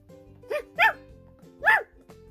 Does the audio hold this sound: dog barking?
yes